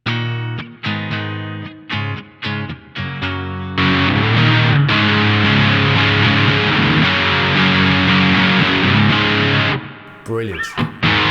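Electric guitar through a T-Rex Dr Swamp pedal set for heavy, grungy distortion, starting with choppy staccato chords, then a long loud sustained crunching chord that cuts off into a few short stabs and string noise.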